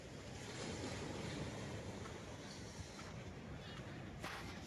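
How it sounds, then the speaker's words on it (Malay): Ocean waves wash steadily in a continuous, fairly faint surf roar, with wind buffeting the microphone and no clear speech. "Lepas tu dengar bunyi ombak."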